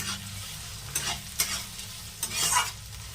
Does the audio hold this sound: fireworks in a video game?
no